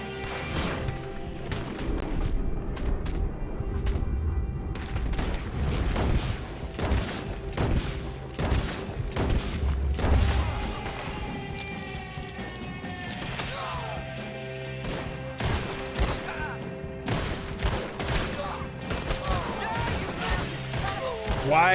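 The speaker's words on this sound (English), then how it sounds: "I'm killing all these motherfuckers with Arthur's gun" Gunfire in Red Dead Redemption 2, a rapid series of loud cracking shots and booms going off near and far across the scene, with someone talking between bursts.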